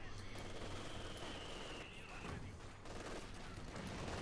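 In a Company of Heroes 2 match, an MG42 machine gun fires amid a busy battle, its rapid rattling bursts running under constant combat noise and faint background speech.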